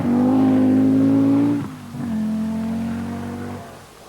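A 450 horsepower short-wheelbase Audi Quattro rally car at the 1986 RAC Rally, its engine holding a loud steady drone, then dipping briefly and droning on before easing off.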